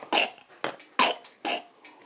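A child coughs four short, sharp times in an uneven rhythm, close and fairly quiet, with brief pauses between them and no talking.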